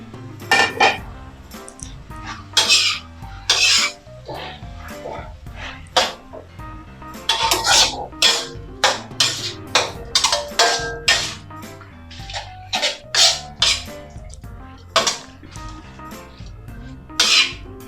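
Metal spatula scraping and clanking in a pan as holy basil is stir-fried with minced pork, a busy run of bright, irregular clinks and scrapes repeating close up throughout.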